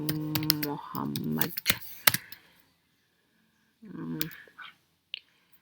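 A computer keyboard is typed on in a SQL editor with a few sharp, scattered key clicks and short bursts between spells of nearby talk, then near silence.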